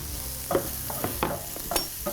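Onion and two large garlic cloves sizzle in hot oil, a steady crackle with several louder stirring bursts roughly every half second, close by and without voices.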